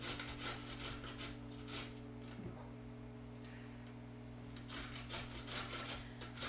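Food being grated by hand on a metal grater in a home kitchen, steady scraping strokes repeating over a constant low hum, fairly faint with no talk.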